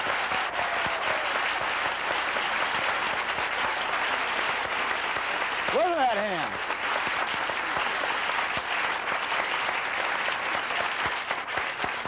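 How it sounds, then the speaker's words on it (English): Studio audience at a television talk show applauds steadily and loudly throughout as a guest is welcomed, with a voice speaking briefly over the clapping midway. "You applaud a madam like this?"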